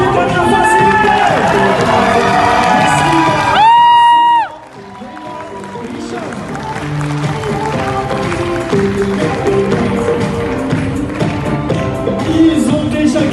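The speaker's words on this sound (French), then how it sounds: "Et on les applaudit une dernière fois, s'il vous plaît." Bodybuilding competition audience applauding the competitors, a loud sustained burst of clapping and cheering mixed with a voice over a PA, continuing as crowd noise after a brief lull.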